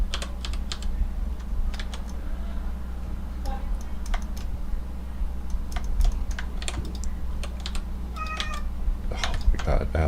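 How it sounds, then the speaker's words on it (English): A pet cat meows a few times while a computer keyboard clatters with steady typing over a low hum, the meows short and moderately close. "She literally meows all day."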